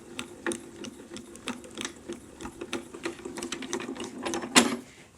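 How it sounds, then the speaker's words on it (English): A card with a lace edger die is cranked through a Grand Calibur die-cutting machine, producing a close, steady run of rhythmic ratcheting clicks and gear rattles for several seconds. "I'm going to put our Elegant Lace Edger in there, and we'll just run it through the grand caliper."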